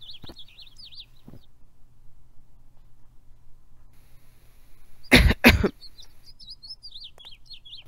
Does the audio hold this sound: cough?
yes